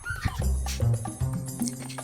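A dog close by gives a quick series of short yips and whimpering barks, rising and falling in uneven bursts.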